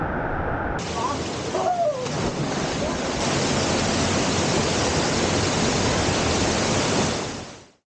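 Lan Sang waterfall in Tak province rushes with a loud, dense, steady roar of pouring water close by, a faint voice briefly audible early on, before the sound cuts off sharply at the end.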